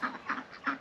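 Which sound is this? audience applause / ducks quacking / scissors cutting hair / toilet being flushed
ducks quacking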